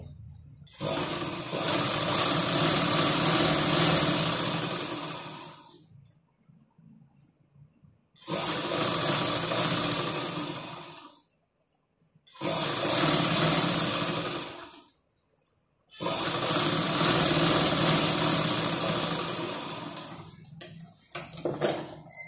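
Sewing machine running in four long bursts of steady stitching separated by short pauses, joining the sleeve of a blouse, loud and close with no talking.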